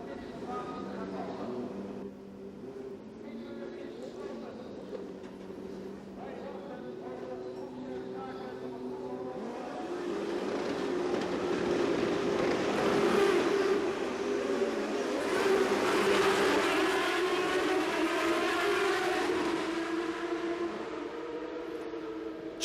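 Champ Car race cars roar off at a race start on a fast, narrow circuit, the engine noise swelling into a loud sustained drone partway through beneath a commentator's excited talk.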